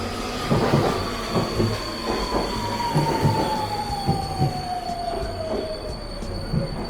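A Budapest metro train rides along the rails with a steady rumble, rhythmic wheel clatter and a long, loud, sliding wheel squeal, heard from inside the moving car.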